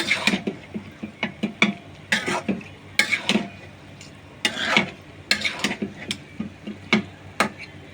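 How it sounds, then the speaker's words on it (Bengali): Chickpea lentil curry with chicken offal being stirred in a pan, with rapid, repeated metallic scrapes and clinks of a spoon against the pan, close and busy, with brief pauses. "ঢেলে দিয়ে এখন ভালো মতো নেড়ে ভালো মতো নাড়বো"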